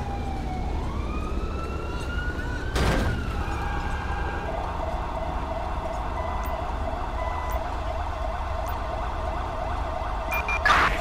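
In the LSPDFR police mod for a video game, an ambulance siren wails and then shifts into a steady electronic yelp, loud and continuous, with a brief thump partway through.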